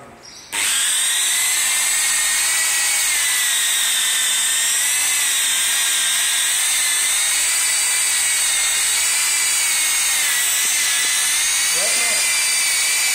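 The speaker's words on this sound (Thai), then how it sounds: "ใช้ขัดน้ำยาออกแทนผ้าไมโครสอง มันสามารถปั่นชักเงาได้อีกรอบ" A handheld car polishing machine buffs wax off paintwork with a loud, steady high-pitched whine that starts abruptly after a brief quiet moment and holds constant throughout, close to the listener.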